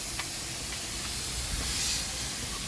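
Steam hisses steadily into the LP cylinder of a US Navy launch engine, a loud, continuous broadband rush with faint mechanical ticks and knocks underneath.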